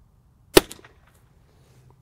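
A single sharp crack from a .22 LR rifle firing .22 Short ammunition, close and loud, followed by a brief echo tail fading into quiet.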